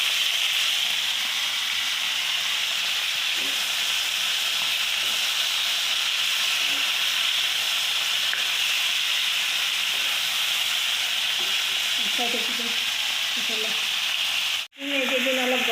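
Fish sizzles steadily in hot oil in a pan, a loud continuous frying hiss that goes on for the whole stretch, with a brief stir and a short break near the end.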